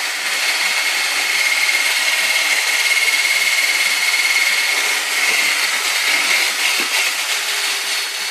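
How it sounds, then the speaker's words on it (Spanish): An electric hand mixer whirs steadily as it beats eggs with vanilla sugar for an orange sponge cake, a loud continuous high-pitched motor drone with slight wobbles in pitch and no talking. "Añadimos el azúcar vainillado y ahora voy a batir 15 minutos."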